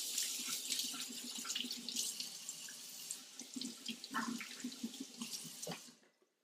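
Tap water runs steadily over tomatoes being rinsed at a kitchen sink, a continuous splashing hiss with bursts of spatter, close and fairly quiet, cutting off near the end.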